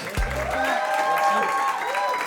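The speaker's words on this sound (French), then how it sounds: "Je vous prierai de faire un tonnerre d'applaudissements pour notre invité de ce soir" A comedy club audience applauds and cheers for the evening's guest comedian. The dense crowd noise runs throughout, mixed with whoops and shouting voices, after a low thump at the start.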